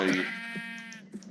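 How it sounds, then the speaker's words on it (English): A sheep in a video game gives a single drawn-out bleat, clear and close with a wavering tone, fading into brief soft game sounds. "A sheep."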